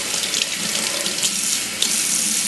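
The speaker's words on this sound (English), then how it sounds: "Rinse the legs off." A kitchen faucet runs steadily into a sink as crab legs are rinsed under the stream, a continuous close splashing hiss with small shifts as the legs move through the water.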